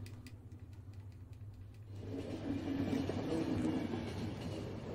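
A train runs in the video game The Final Station, starting as a quieter rumble with faint rhythmic clicks before swelling into a louder, steady rolling clatter; nobody speaks.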